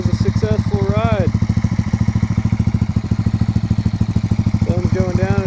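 An air-cooled engine on a fire-damaged Buell motorcycle being built into a cafe racer runs at a steady, rapid thumping idle, close by, with someone talking over it.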